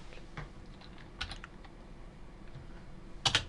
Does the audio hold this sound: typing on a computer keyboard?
yes